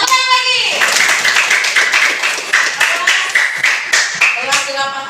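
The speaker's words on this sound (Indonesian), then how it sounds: "Iya, tepuk tangan lagi." A class of eighth-grade students in a lesson claps in quick, sharp, rhythmic beats, loud and close, with children's voices mixed in among the claps.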